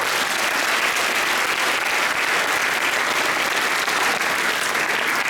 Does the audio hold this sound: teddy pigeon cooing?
no